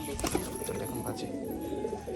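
A pair of pigeons long kept below coo softly in a steady low murmur against a faint hum, with a brief voice in the background.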